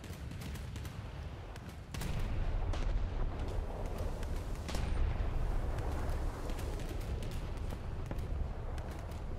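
Naval guns on a War Thunder dreadnought battleship firing, heavy booming shots with a loud sustained rumble rising after about two seconds, dense and continuous like repeated broadside fire close by.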